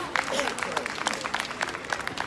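Brief burst of scattered applause from a small group at a conference plenary session, clapping loudly for a couple of seconds for a panel with a voice briefly audible underneath.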